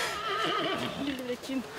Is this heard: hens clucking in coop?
no